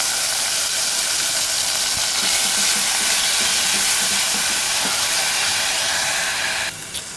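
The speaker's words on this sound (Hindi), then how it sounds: "अब पैन में सबसे पहले ये 4 टेबल स्पून कुकिंग ऑयल डालेंगे और ये अदरक लहसुन जो मैंने दिखाई थी ये डालेंगे" Steady loud hissing sizzle of ginger and garlic frying in hot cooking oil in a pan, continuous throughout with a faint clatter near the end.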